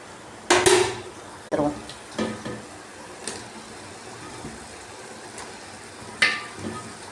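Chicken pieces are tipped into a pan of onion-tomato masala gravy, bringing several clanking metal thuds of pan and spoon, each followed by a soft brief sizzle, with quiet gaps between and no talk.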